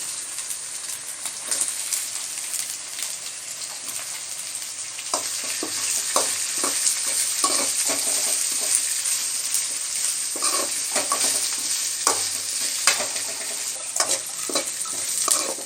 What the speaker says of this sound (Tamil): இப்போ வந்து வெங்காயத்தை சேர்த்து விட்டுடலாம்.